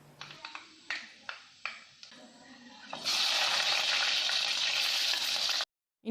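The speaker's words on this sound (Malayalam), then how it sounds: "വെളിച്ചെണ്ണ നല്ലപോലെ ചൂടായി കഴിയുമ്പോൾ അതിലേക്ക് 1 ടീസ്പൂൺ ഉലുവ ചേർക്കാം" A teaspoon of fenugreek seeds drops into hot coconut oil in a clay pot, first with a few light ticks and taps, then a loud, steady, close sizzle that suddenly cuts off.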